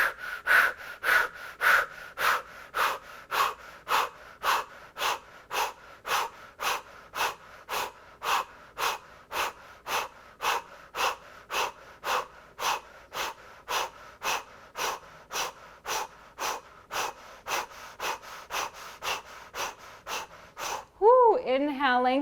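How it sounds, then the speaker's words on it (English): Breath of fire in a yoga flow, done through an O-shaped mouth as a long run of rapid, evenly spaced forceful breaths, about two each second and close up. A voice starts speaking at the very end. "Either slow, deep breathing or breath of fire through an O-shaped mouth."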